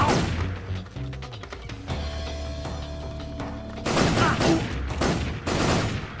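Gunshots in Metal Gear Solid mixed with game sounds, several loud bursts and impacts, with heavier clustered blasts in the later part over continuous background noise.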